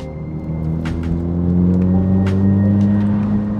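A Mazda MX-5 NC engine idles with a steady, low rumbling drone and smooth tonal hum that holds even and fairly loud from inside the car.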